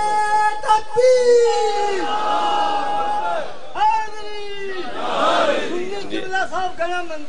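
A crowd at a Shia majlis, a religious mourning gathering, raises loud chanted slogans in long drawn-out voiced calls, several surges of many voices one after another, with no separate speech over them.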